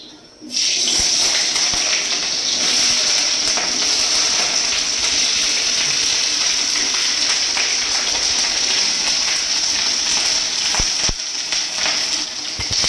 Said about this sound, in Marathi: आता हे भाजून टाकते मी खडा मसाला ह्यावाला